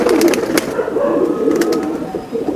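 Kattan breed pigeons cooing close by, a loud run of soft throaty coos and some wing rustles, with no talk over them.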